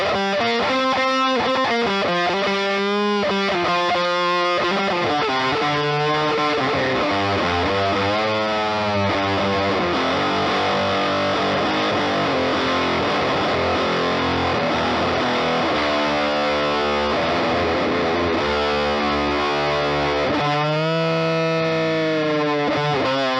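Electric guitar played through a Death By Audio Fuzz War pedal with the fuzz fully maxed, giving loud, saturated, buzzing chords and riffs that ring out alone for about twenty seconds with no talking.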